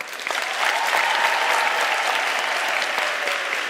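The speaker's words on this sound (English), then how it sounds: "Can you give them a round of applause?" Audience applause at a University of South Africa spring graduation ceremony, a dense, steady wash of many hands clapping together, loud and sustained for the whole stretch with no talking over it.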